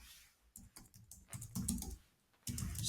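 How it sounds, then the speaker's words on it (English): Quiet typing on a computer keyboard, with short clusters of crisp keystrokes separated by brief pauses, close and clear against a near-silent room. "if I type life cycle stage"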